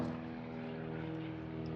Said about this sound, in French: Il y a des avions qui décollent toutes les 5 minutes.